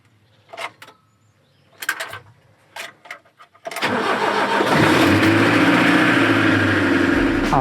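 An Iveco VM90 truck diesel engine cranks in several short bursts, then catches and settles into a loud, steady running rumble heard close by.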